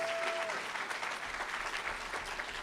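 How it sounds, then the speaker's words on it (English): Audience applause at a council meeting general assembly, a dense, steady wash of many hands clapping, fairly distant and even throughout, with a brief tonal hum at the start. "A round of applause for LG Sarajevo."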